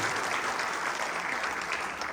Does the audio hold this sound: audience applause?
yes